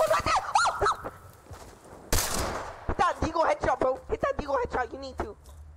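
A single sharp Desert Eagle pistol shot in a multiplayer murder-mystery video game, one loud broadband crack cutting between stretches of excited voices.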